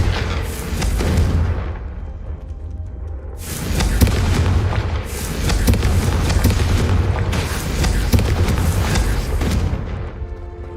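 Loud, sustained blasting-curse explosions in a fantasy wizarding-school action game, three long roaring bursts with deep rumbling low end separated by brief dips, crackling debris and impact noise throughout.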